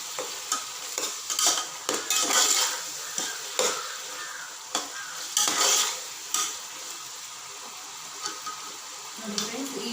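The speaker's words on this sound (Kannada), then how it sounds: "ಈರುಳ್ಳಿಯಿಂದ ಫ್ರೈ ಆಗ್ತಾ ಇದೆ, ಸಾಫ್ಟ್ ಆಗಬೇಕು ಫುಲ್ಲು" Onions frying in a pan while being stirred, with a steady crackling sizzle broken by repeated scraping stir strokes, fairly close and moderately loud.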